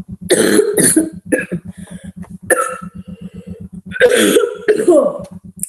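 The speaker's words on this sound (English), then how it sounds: "I'm very sorry about my coughs" A few harsh, sudden coughs break out in two clusters, loud and close, with a rhythmic low pulsing underneath between them.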